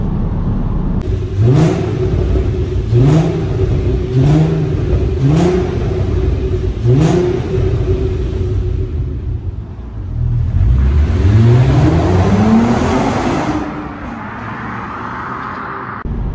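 An Audi TT Mk1 with the 3.2 V6 pulls hard in fourth gear, its engine note climbing in a series of loud, close rising sweeps and then building into a strong sustained howl before easing off at the end.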